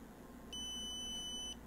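An Arduino-driven buzzer gives one steady, shrill electronic beep lasting about a second, starting after a short quiet pause and heard close and clear over a low background hum.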